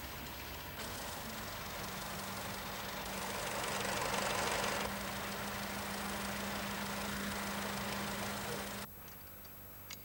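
A 1919 Wolseley vintage car engine runs with a steady, rough idling drone that swells slightly midway, then drops off abruptly near the end, heard alone without speech.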